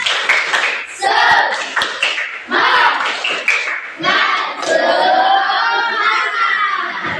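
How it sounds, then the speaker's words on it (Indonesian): A school class claps together in a rhythmic chant routine, bursts of hand claps mixed with children's shouted chanting, loud and close in a classroom. "Oke, tepuk semangat."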